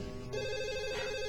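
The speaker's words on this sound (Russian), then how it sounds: "Видишь, опять звонит телефон." A telephone rings indoors with a steady electronic tone, loud and close, sounding alone without any talk.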